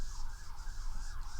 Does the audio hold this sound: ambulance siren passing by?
yes